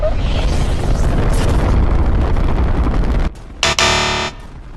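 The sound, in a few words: rocket launch explosion in Fortnite video game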